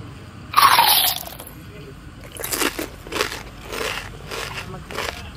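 One loud, crisp crunch of a bite into a corn dog, followed by several softer crunchy chewing sounds over a faint background murmur.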